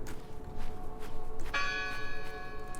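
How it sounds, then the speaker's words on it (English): A church bell rings out in the horror game Draugen, one clear tolling strike with long shimmering overtones that hang and decay over a steady low ambient rumble. "Listen! The bell!"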